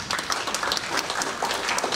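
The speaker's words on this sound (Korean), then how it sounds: "박수 한번 보내주시면 감사하겠습니다." Audience applause at a Korean talk, a dense, steady patter of many hands clapping that fills the whole stretch at an even, moderately loud level with no voices on top.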